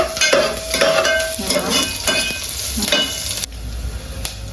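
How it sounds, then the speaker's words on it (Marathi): Chilies and curry leaves crackle loudly in a hot pan while a spoon stirs them, with scraping and occasional metal clinks over a constant sizzle, close up and without speech. "पहिले मिरची टाकून मिक्स करायला चमचा घे"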